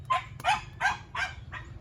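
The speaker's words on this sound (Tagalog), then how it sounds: "Ay, ingay ng aso." A dog barks five times in quick succession nearby, sharp evenly spaced barks over a low background hum.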